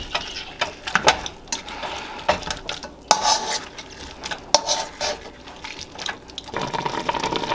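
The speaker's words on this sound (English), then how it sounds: "I'm just gonna use my masher here. And we wanna make sure they are crushed really well" Strawberries simmering in a pan are stirred and crushed with a metal masher, giving repeated wet squelching mashes and clanks against the pan in an uneven rhythm, close and moderately loud.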